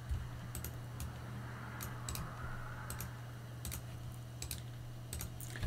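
Someone types on a computer keyboard in scattered quick clusters of light clicks over a steady low electrical hum, with no talking.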